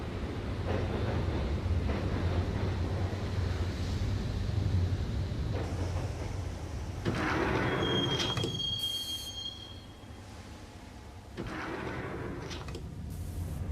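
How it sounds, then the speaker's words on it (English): Rumbling subway train ride in Max Payne with a steady low roar, broken by a high metallic wheel squeal partway through, then quieter rolling. "the train doors had already shut behind me, and I was in for the ride"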